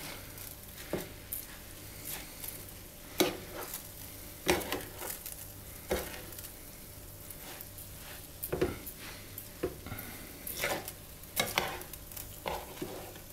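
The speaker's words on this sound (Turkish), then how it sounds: "Şimdi bunu güzel yine karıştırıyorum." Rice filling for stuffed peppers with pomegranate molasses being stirred in a pot, producing soft intermittent scraping and light sizzling in short bursts, close and fairly quiet.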